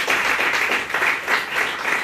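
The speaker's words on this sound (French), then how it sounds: "Applaudissons encore pour Raïssa." Brief applause from an audience for Raïssa, close, dense clapping pulsing in slight waves throughout.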